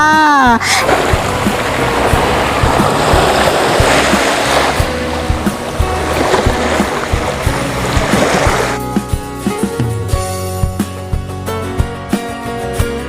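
Waves washing onto the beach in front of a seaside townhome project at Bang Phra, Si Racha, Chonburi: a broad, continuous surf rush that fades out partway through, then gives way to lighter tonal sounds.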